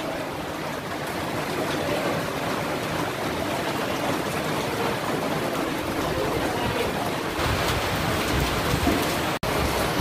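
Heavy rain from Typhoon Rolly falls in a Philippine barangay as a dense, unbroken hiss of downpour, steady and loud from start to finish, with a brief break near the end.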